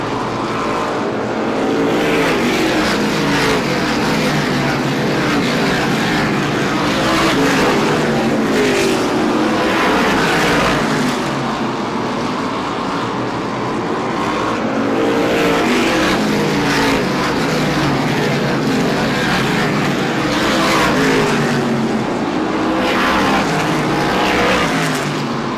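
Race cars, including a number 92, roar around Star Speedway in an SBM 125 event, a loud continuous engine drone that swells and fades in waves as the pack passes, with no talk.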